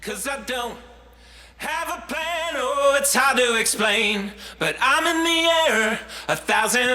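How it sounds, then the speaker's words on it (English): A voice sings a pop melody with a spacious, shimmering 1980s Lexicon digital reverb tail washing around the vocal over a light accompaniment. "are routed through an effect called a lexicon. That's the digital reverb made popular in the 80s."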